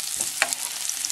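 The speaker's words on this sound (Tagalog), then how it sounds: "So, gigisahin natin itong garlic." Garlic sautéing in hot oil in a cooking pan gives a soft, steady sizzle with a couple of quick stirring scrapes, close by and fairly quiet, with no talking.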